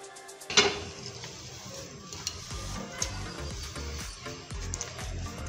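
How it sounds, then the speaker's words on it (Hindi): Diced potatoes are stirred into a spice mix of cumin, black pepper and turmeric in a pan, giving soft, repeated scraping strokes over a light sizzle, with one sharp utensil clink near the start. "आलू को सारे मसालों में अच्छे से मिक्स कर देंगे।"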